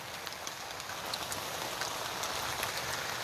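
Rain falls steadily in a garden beside a self-sufficient home, a dense, constant hiss with scattered sharper drop taps, close and fairly loud throughout with no talking.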